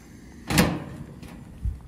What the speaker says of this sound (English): And close the door up and take a step back.